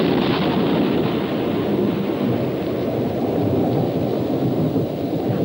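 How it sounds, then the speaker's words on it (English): A raging thunderstorm on Mars in a 1965 film, a continuous loud roar of wind and rain with rumbling thunder, dense and unbroken throughout. "The storm is building in intensity."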